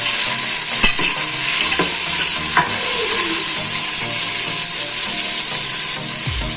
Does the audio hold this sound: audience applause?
no